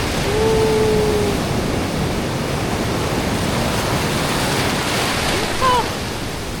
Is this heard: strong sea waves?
yes